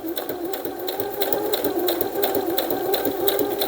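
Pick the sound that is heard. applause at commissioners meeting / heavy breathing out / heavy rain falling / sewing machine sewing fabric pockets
sewing machine sewing fabric pockets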